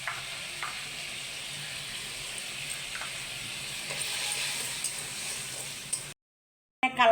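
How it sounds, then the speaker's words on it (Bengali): Turmeric-laced spice paste sizzles steadily in a pan, a continuous close frying hiss with faint crackles that cuts off abruptly near the end before a brief clatter. "মশলাটাকে ভালো করে কষিয়ে নেব।"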